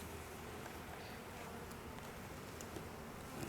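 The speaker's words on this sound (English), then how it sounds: "There's like 100 bees max per frame." Honeybees buzz steadily and faintly around an open hive during an inspection of a small colony, a continuous soft hum with no voices.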